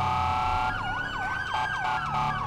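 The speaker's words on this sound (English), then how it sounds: "Listen to the sirens, people." Police sirens sound in GTA V with the LSPDFR police mod: a steady electronic tone gives way within the first second to a fast, rhythmic warbling wail that repeats loudly to the end, with no talk.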